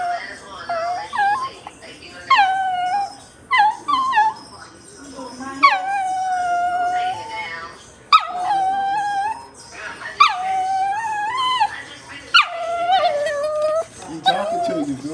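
A dog cries in repeated rising whimpers and drawn-out howling yelps, loud and close, in bursts across the whole stretch, with short gaps between them.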